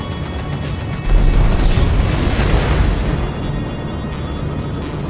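Shield generators blow up in the space combat game Strike Suit Zero, heard as a loud, rumbling boom that swells after a second and slowly fades under a steady game background.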